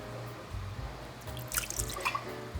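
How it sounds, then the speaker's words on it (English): Warm water poured into a bowl to rinse it, with soft drips and small splashes coming in brief bursts, close and fairly quiet. "I'm gonna take this same exact bowl and I'm gonna pour warm water"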